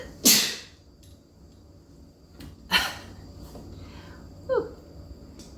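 A woman sneezes sharply twice, close and loud, with a smaller vocal sound following and quiet breathing in between.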